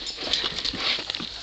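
A dog makes noise indoors, with close, restless whining and snuffling mixed with light pattering and scrabbling over a short stretch, and no talk.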